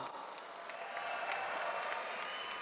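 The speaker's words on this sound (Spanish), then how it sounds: "¡Un aplauso para el Lobo!" Crowd at an MMA event in Monterrey, Mexico, applauds and cheers for fighter Lobo Díaz, a broad, distant wash of clapping with scattered sharp claps and cheers, fairly faint.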